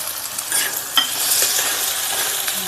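Mutton kheema bhurji with egg being stirred in a frying pan, making a steady close sizzle with soft scraping and a few sharper spoon knocks. No one speaks.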